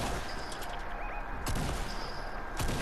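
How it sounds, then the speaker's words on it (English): Shotgun blasts in Fortnite, two sharp reports spaced about a second apart over a busy, noisy game background with no talking. "they're missing every shot with a shotgun"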